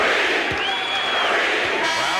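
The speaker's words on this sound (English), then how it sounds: "Crowd chants now. Kareem's name." Packed arena crowd at Game 4 of the 1989 Lakers versus Pistons NBA Finals chanting Kareem's name, a loud, sustained roar of many voices with rhythmic chant swells and scattered whoops.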